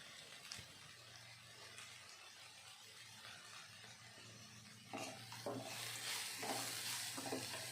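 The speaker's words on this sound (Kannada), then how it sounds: "ಉಪ್ಪನ್ನ ಇವಾಗಲೇ ಹಾಕೋದ್ರಿಂದ ಈರುಳ್ಳಿ ಎಲ್ಲ ಬೇಗ ಫ್ರೈ ಆಗುತ್ತೆ" Chopped onions with salt frying in a pan, a steady close sizzle with scattered stirring scrapes that grow louder and busier toward the end.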